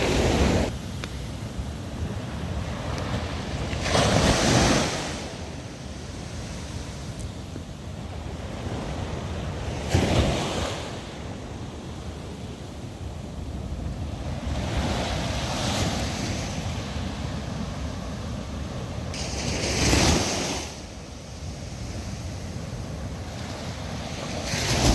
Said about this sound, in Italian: il mare continua a battere